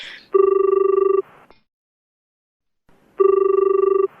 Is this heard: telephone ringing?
yes